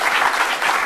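A television studio audience applauds in a dense, loud burst of clapping at a talk show, brief and unbroken with no voices over it.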